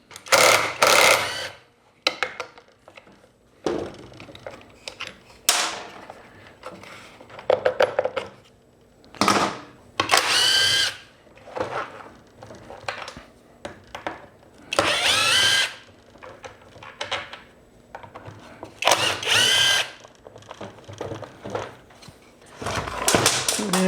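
A power tool works a nut off a Troy-Bilt TB400 leaf blower in a string of short, loud whirring bursts separated by quiet gaps, close at hand with no talk.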